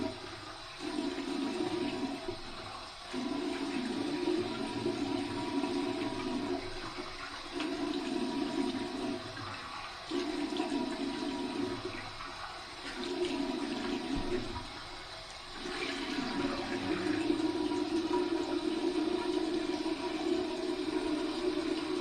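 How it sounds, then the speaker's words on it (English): Warm water is poured over a shaved head during a rinse, splashing in a steady series of pours broken by short pauses, close and moderately quiet with no talking. "Here's my warm water rinse"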